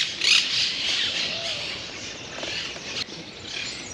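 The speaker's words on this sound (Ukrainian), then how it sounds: "Чуєте крики? Це кричать папуги." Harsh, high squawks from a flock of green parrots in trees in an Italian city carry through continuously, with a burst of louder calls near the start and over a steady outdoor background.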